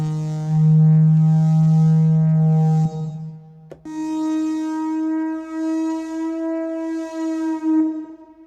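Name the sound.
pitched braam sound effect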